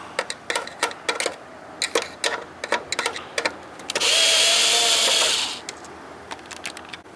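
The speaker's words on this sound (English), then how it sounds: "Then remove the other screws." Screws coming out of an LCD monitor: a run of sharp close ticks and clicks, then a steady whirring burst lasting over a second, like a small powered screwdriver, before more clicking resumes.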